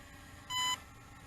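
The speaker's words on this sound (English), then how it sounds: "It is kind of annoying to have this beep going on as well." A single short electronic beep, high and clear, sounds once over faint background noise: the low-voltage warning from an Aosenma CGO36 Shadow Pro GPS quadcopter drone.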